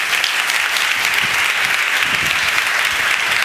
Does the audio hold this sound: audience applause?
yes